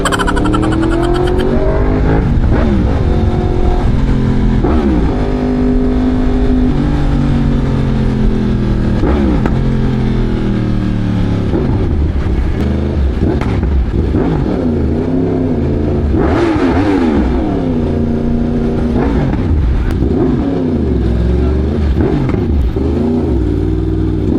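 Yamaha R1 M sport motorcycle with its CP4 crossplane inline-four engine, revving loudly and continuously up close, pitch rising and falling through repeated throttle blips with no talk over it.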